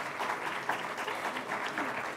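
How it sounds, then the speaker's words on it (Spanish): Applause from an audience at a talk on appropriate and ethical use of social networks, steady clapping filling the whole stretch at moderate level with no voices over it. "Un gran aplauso."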